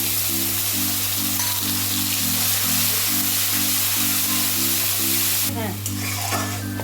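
Tomato paste hits a frying pan of spiced onion base for dum aloo and sizzles loudly and continuously, with rhythmic stirring and a sharper hissing surge near the end.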